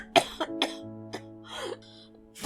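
Several separate coughs and throat-clearing sounds from one person, close and fairly quiet, spaced irregularly with pauses between them. A steady low electronic hum runs underneath.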